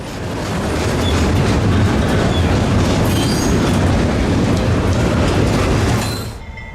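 Norfolk Southern freight train rolling past near Jacksonville, a loud, close, steady rumble with wheel clatter over the rails and faint squeals, fading at the end.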